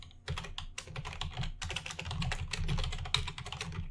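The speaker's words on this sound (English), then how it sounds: "So we can just type here how are you today server," Typing on a computer keyboard to enter a chat message in a Python chat program, with a quick, close run of crisp key clicks in irregular bursts and brief pauses, no voices.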